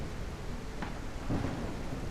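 A low, rolling thunder rumble from a video game storm swells in about midway through, over a steady hiss of falling rain, with a brief crackle just before.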